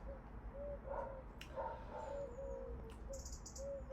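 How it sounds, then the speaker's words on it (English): A neighbour's dog barks faintly in the distance, a few thin repeated yaps spread across a few seconds over a steady low background rumble, with no one talking. "one of the neighbour's dogs has started to bark"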